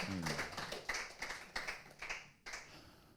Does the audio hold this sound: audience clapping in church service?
yes